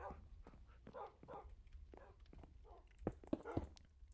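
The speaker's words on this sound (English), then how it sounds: "I have to listen to their constant barking" Faint Minecraft dog barks repeat in a quick, uneven series, with a soft whispery voice murmuring underneath.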